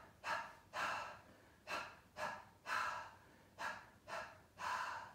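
Rapid dog-like panting done as a diaphragm breathing exercise: eight short, sharp breath bursts in a steady rhythm, close and fairly quiet, with no talking.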